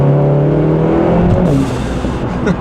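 A Lotus Emira four-cylinder with a valved sport exhaust and stock downpipe revs loudly and close, its engine note rising and then easing off, with a brief whooshing release near the end.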